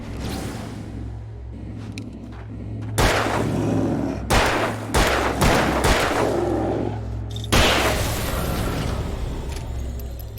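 Gunfire in the Alan Wake video game: a burst of loud, sharp shots crackles out after a low droning hum, then several separate blasts follow in quick succession and one final loud shot rings out near the end.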